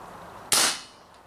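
A single sharp crack from an Umarex Marlin revolver airgun, close and loud, decaying quickly into a short hissing tail before quiet returns.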